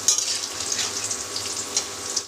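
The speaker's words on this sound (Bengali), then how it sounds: "এবার ভেজে রাখা মাংসটাও এর মধ্যে দিয়ে দিলাম, স্বাদ মতন দিয়ে দিলাম, দিয়ে একটু নাড়াচাড়া করে নিচ্ছি" Fried chicken pieces are stirred through spices in a pan, giving a continuous hissing fry with soft scraping from the stirring, close and fairly loud.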